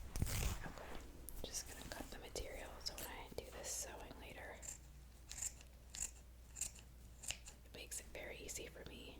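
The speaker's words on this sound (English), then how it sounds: "I'm just going to do a little cut in the material, okay?" Scissors make a little cut in fabric material during a close-up jewelry fitting, with soft, crisp snips repeating at an even pace under quiet whispering.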